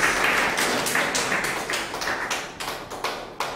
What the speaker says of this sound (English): Let us give a clap.